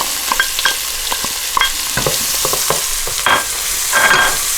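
Onions, celery and carrots hit hot rendered fat in a pot for Manhattan clam chowder, sizzling loudly with close, repeated stirring and scraping throughout, no voices.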